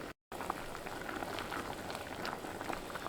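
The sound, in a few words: Kalan curry boiling in a pot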